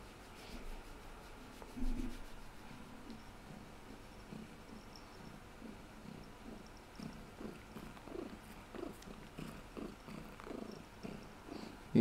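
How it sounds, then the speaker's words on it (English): A pet cat purrs close up in a steady low rumbling rhythm, each breath making a soft pulse, with light rubbing and rustling noises over a quiet background hum. "He's an awesome kitty."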